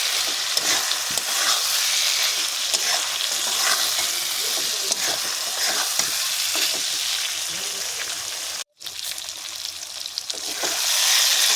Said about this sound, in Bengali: আলু পটল দিয়ে আবার একটু নাড়াচাড়া করে নিচ্ছি